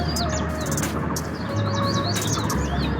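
Small birds chirp and tweet repeatedly in farm fields on a morning in Uttarakhand, bright quick calls over a steady low rumble of background noise.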